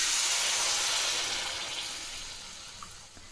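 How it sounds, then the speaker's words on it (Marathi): Half a glass of water poured into a hot pan of sprouted mung bean curry, giving a loud steady steam hiss that slowly fades away, close by with no talk. "मी इथे अर्धा ग्लास पाणी टाकलं आहे."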